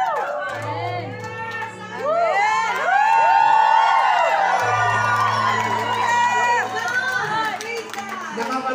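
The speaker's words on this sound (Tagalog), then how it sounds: "Maging ang palakpakan," A church congregation at a thanksgiving anniversary service in Macau shouts and cheers together, a dense, loud wall of many voices that swells and stays strong throughout, over a low sustained tone.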